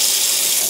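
A bathroom sink tap runs in a steady, close hiss of water, loud and continuous through the brief moment, with no voices over it.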